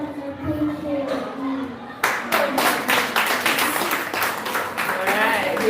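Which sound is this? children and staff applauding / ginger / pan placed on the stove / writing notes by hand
children and staff applauding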